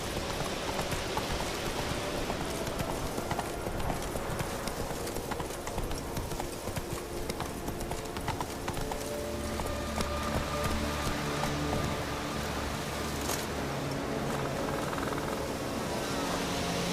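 Roach the horse galloping in The Witcher 3, rapid rhythmic hoofbeats pounding steadily over a dense wash of outdoor ambience and rumble, continuous and fairly close.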